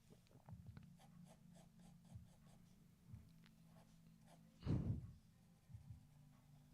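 A pencil scratches and strokes across paper while drawing a foreshortened figure pose, in short quiet scribbles with a brief firmer rub near the end.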